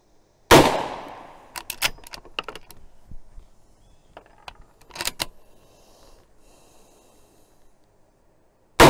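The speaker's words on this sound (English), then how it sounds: "So let's get shooting and see what comes." A single loud, sharp gunshot from a .45 Colt cartridge rings out at an outdoor range, followed by scattered mechanical clicks and clatter of handling, then another abrupt shot at the very end.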